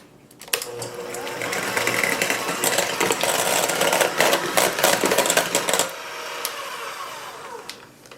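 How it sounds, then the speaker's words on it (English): A hand mixer beats very soft cream cheese, starting with a sudden whir that runs loud and busy for about five seconds, then settles into a quieter, smoother hum before fading. "I am going to beat this with my hand mixer until it gets fluffy"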